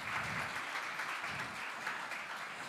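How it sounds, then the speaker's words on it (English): A round of applause for scientists at a Polish-Norwegian research cooperation conference, dense and even clapping from a sizeable audience, sustained at moderate volume for a few seconds. "may I please ask for a big round of applause for all of the scientists"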